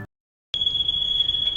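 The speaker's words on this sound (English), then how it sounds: "the fire alarm is going off" A building fire alarm goes off after a short silence, a single piercing, steady high electronic tone that holds loud and unbroken to the end.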